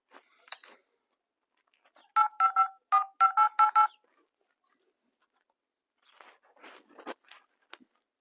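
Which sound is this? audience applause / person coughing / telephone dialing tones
telephone dialing tones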